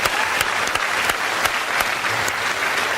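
An audience claps steadily, a dense and loud round of applause with a few sharper individual claps standing out over about three seconds.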